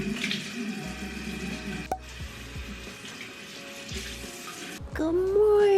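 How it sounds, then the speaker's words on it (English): A bathroom tap runs cold water while a face is washed, making a close, steady splashing stream broken by brief handling knocks, and it grows louder near the end. "I'm gonna wash my face with cold water because I feel a little puffy this"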